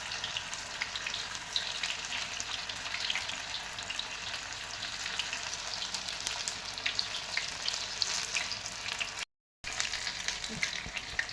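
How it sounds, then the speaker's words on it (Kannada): Jackfruit fritters fry in hot oil over low to medium flame, a dense, even crackling sizzle that runs steadily at moderate loudness, briefly cut off near the end, with no talking. "ಸೊ ಈಗ ಎಣ್ಣೆ ಕಾದಿದೆ. ಒಂದೊಂದಾಗಿ ಇದನ್ನು ಫ್ರೈ ಮಾಡೋಣ."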